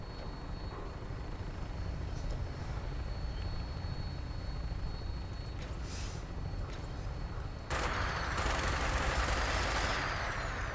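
Aircraft in Fallout 4 powering up for takeoff, a steady loud engine roar and rumble that swells abruptly with a brighter, hissing thrust surge in the final few seconds.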